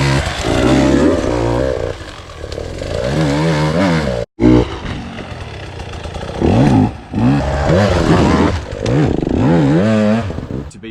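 A 2020 KTM 150 EXC TPI fuel-injected two-stroke motorcycle being ridden, its buzzy, loud engine repeatedly revving up and dropping back, with a brief cut-out near the middle.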